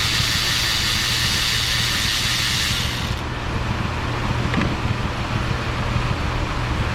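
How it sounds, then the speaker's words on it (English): A 300,000-mile Ford Escape 3.0 V6 with two dead cylinders runs rough with the engine running, giving a steady close-up engine drone and a persistent low rumble, with no talking. "I am doing this with the engine running"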